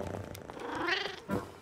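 A cartoon cat in the animated Boule et Bill series gives a short, close meow with a soft purr beneath it, followed by a brief second vocal chirp.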